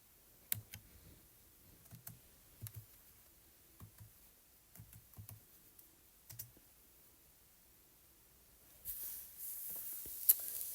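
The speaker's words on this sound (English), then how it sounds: "So I'm just going to type" Keys tapped on a computer keyboard, scattered clicks spread through the first two thirds, a few in quick pairs, close and fairly quiet, then a louder rustling at the end.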